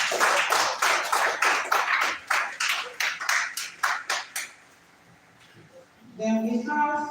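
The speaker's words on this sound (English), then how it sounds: "Please a round of applause." Conference audience clapping in a steady burst of applause for about four seconds, loud and close, then fading to near quiet before a brief chime-like tone enters.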